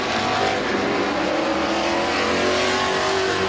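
Race cars roar continuously around the oval at Midvale Speedway in the closing half lap of a feature, engines loud and sustained with rising whine as they push through the turns.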